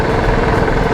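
2019 Royal Enfield Classic 350 Signals motorcycle idling up close, a loud steady low engine thump with a dense rumbling texture and no talk.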